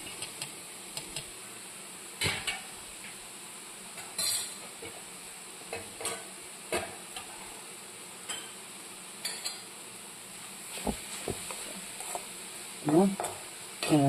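Grated coconut stirred in a hot pan for thoran, with a faint steady sizzle under repeated scraping strokes of a spoon against the pan.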